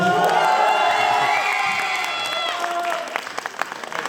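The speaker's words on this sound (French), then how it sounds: "Un applaudissement pour ma mère, s'il vous plaît." A crowd at a dance show breaks into applause and cheering for a performer's mother, with dense clapping and whoops that thin out into scattered claps, while voices mingle in the noise.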